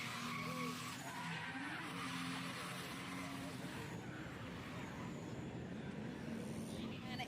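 Drift competition car with engine revving and tires skidding under smoke, a sustained distant squealing roar heard beneath a commentator talking.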